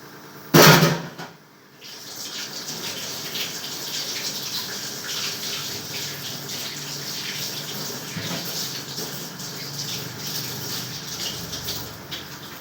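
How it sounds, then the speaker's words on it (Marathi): Tap water runs steadily into a kitchen sink while utensils are washed, opening with a brief loud gush before settling into a continuous close splashing flow. "आता तर हे सगळं धुवून घ्यायचं."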